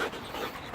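Dog panting close by as it walks along on a training walk with its owner, a steady run of quick breathy huffs lasting under a second with no talk.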